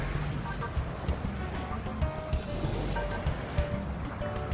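Ocean water sloshes and laps in clear shallows off a Cozumel resort beach, a steady wash of waves with soft splashes and bumps, while people talk faintly underneath.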